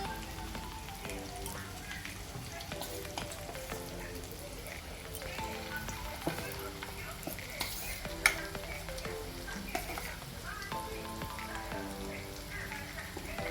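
Pakoras being fried a second time for biryani give off a quiet, steady sizzle of hot oil, with small pops and light utensil taps scattered throughout.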